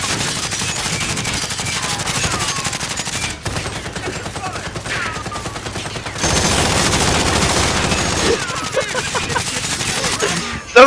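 Sustained automatic gunfire in a multiplayer shooter game, with dense rapid bursts from several weapons firing continuously, briefly dipping and then intensifying again near the end.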